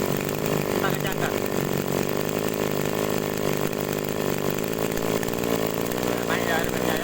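A small agricultural sprayer engine runs loud and buzzy at raised RPM, a dense steady drone throughout with a voice speaking over it.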